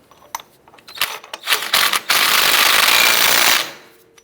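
A ratchet snugs down the axle nut on a front hub assembly of a 2002-2007 Jeep Liberty: a few sharp clicks and taps, then a loud, continuous buzzing whir lasting over a second before it stops, close by.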